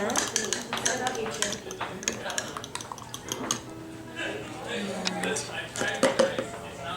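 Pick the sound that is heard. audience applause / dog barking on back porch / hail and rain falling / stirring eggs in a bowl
stirring eggs in a bowl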